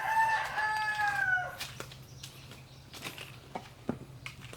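A rooster crows loudly and close by in a backyard vegetable garden, its drawn-out call filling the first second and a half, followed by scattered faint chicken clucks and rustling.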